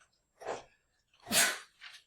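A single person sneezes close by in a quiet room: a short inhale followed by a loud, sharp burst and a fainter trailing exhale.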